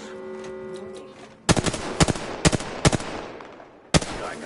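Gunfire in the Apex Legends battle royale game: several sharp bursts of shots in quick succession over a droning, tonal game background, ending with one last loud shot.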